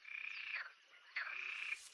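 A frog near a pond lets out two rapid, rattling croak trills, close and clear, separated by a brief pause.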